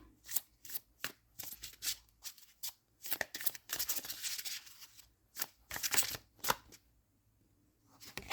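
Cards being shuffled by hand at close range, with repeated riffling bursts and soft slaps separated by short quiet gaps.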